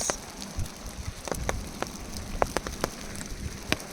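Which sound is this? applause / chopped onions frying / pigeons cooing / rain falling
rain falling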